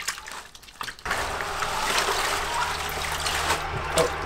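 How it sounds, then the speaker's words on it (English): Running water rinses freshly skinned rabbit pelts outdoors, starting with a few faint splashes and then switching to a loud, steady close gush of flowing water that continues to the end. "I think I'm gonna rinse them one more time and take them in and soak them."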